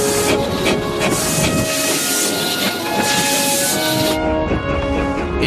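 The replica early steam locomotive Planet runs on the Liverpool and Manchester Railway, giving a loud, steady rush of hissing steam and rolling wheel noise close by, with no break throughout.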